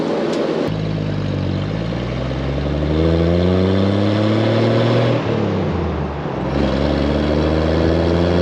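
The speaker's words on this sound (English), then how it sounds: "so the truck goes through the gears" A 1976 Jeep CJ5 with a 258 cubic inch inline-six engine accelerates through the gears, its steady engine drone rising in pitch, dropping at each shift, then climbing again, loud and close throughout.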